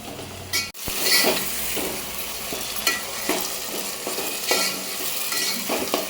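Chopped onions for a desi keema curry sizzle and fry in a pan while being stirred, with steady crackling and repeated scraping strokes, plus a light clink of metal on the pan, close and loud with no voices.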